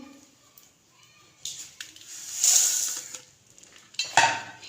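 Vermicelli and cardamom go into hot ghee in a pan: scattered clinks and scrapes of utensils against metal, with a louder rustling, sizzling stretch in the middle and another scrape near the end, fairly close and quiet overall.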